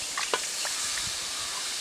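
Chicken pieces tipped into a masala mixture in a pan for a chicken rice parcel meal, giving a steady soft sizzle with a few brief stirring scrapes near the start, no talk.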